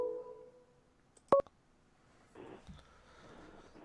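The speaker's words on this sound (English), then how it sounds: "We got a phone call." Telephone call tones on a live sports call-in talk show: a sustained tone, then a sharp short dial or beep burst, followed by faint line noise and muffled sound as the call connects.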